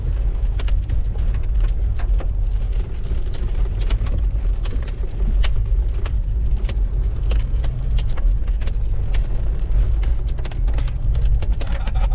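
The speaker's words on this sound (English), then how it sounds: "Big damn hail, holy shit." Large hail hammers an off-road Toyota Land Cruiser 100 Series during a storm in Utah's Book Cliffs, heard from inside as a dense, steady drumming of sharp clicks and thuds over a low rumbling background.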